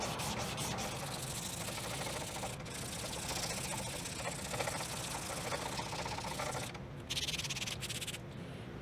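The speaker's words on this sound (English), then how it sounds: "when I'm sanding is I'm not pressing down too much on the sandpaper" Sandpaper is rubbed by hand over filler on a painted motorcycle panel to remove clear coat runs. The abrasive scratching is continuous and close, keeps an even back-and-forth texture and breaks off briefly near the end, with no talking.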